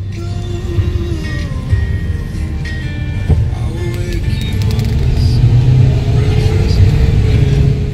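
A large rented Jeep idles and rumbles in low steady tones from inside the cabin, the engine note rising slightly toward the end while a person talks over it.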